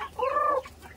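Rhode Island Red chickens on a Philippine farm give a single drawn-out cluck, loud and close, with a little faint farmyard background around it.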